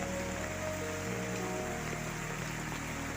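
Steady rain patters on a surface, a continuous wash of noise with no voices, even in loudness throughout.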